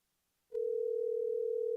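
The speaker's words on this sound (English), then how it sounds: "Let's get Niche on the phone and see where she's at" A steady single-pitch telephone tone while a call is being placed, holding unbroken for over a second after a silent start and cut off abruptly at the end, clear and alone with no talk.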